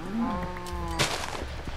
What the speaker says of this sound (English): while I murder some cows